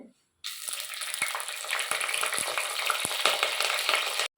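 After a brief silence, a sudden loud sizzle erupts as dried red chillies and curry leaves hit hot oil, crackling steadily with occasional sharp pops, no voices.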